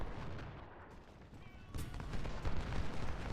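Rifle volleys and cannon fire in a Civil War battle at Iuka in the strategy game Ultimate General: Civil War, a distant rolling crackle of massed gunfire with a louder burst of shots toward the end.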